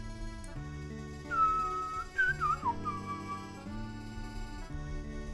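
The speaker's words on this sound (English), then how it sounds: "I can whistle, uh, like Old West, like about to go shootout." A person whistles a short, wavering Old West showdown-style tune near the mic for about two seconds, over steady looping music from the Pokémon Sacred Gold game.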